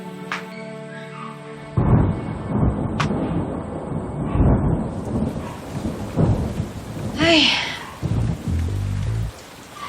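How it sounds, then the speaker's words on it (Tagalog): Heavy rain pours steadily while thunder rumbles, with a person briefly exclaiming and other sounds shifting underneath the downpour. "Ang lakas ng ulan."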